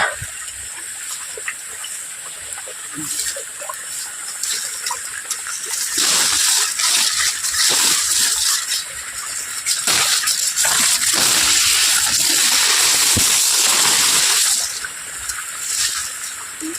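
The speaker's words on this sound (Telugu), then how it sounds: "పొలంలో నీళ్ళు అయితే పెట్టున్నారు" Irrigation water rushes and gushes steadily into a field nearby, swelling louder through the middle before easing, with splashy turbulence and no voices.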